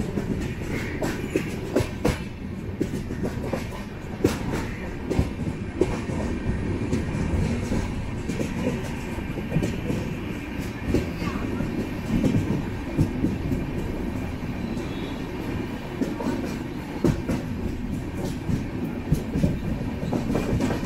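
The 06053 Onam Special passenger train runs from Tambaram toward Ernakulam, heard from on board as a steady rumble with continuous rhythmic clickety-clack of wheels over rail joints and no talking.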